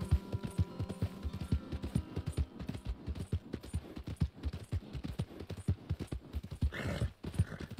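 Horse hooves clip-clop in a steady, even rhythm while riding in the Red Dead Redemption 2 video game, fairly close, with brief game noises near the end.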